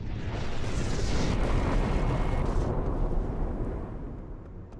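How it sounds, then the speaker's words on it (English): A huge, deep explosion from a small asteroid airburst roars and rumbles, loud and sustained, then slowly fades into a lingering low roar. "followed by a huge explosion."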